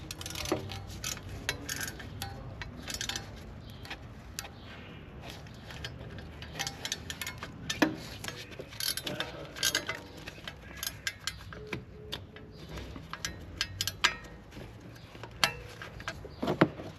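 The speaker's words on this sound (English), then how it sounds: "Now tighten it with the wrench." A wrench tightens an oxygen sensor on a 2012 Opel Antara, giving quiet, close ratcheting clicks in irregular bursts over faint workshop background noise.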